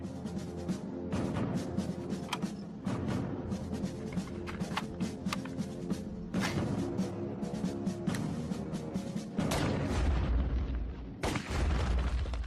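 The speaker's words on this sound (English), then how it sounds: "set up our little artificial asteroids at a safe enough distance to shoot" Gunshots fired at stand-in targets outdoors, a series of loud, sharp reports at irregular intervals, each trailing off, with a heavier boom near the end.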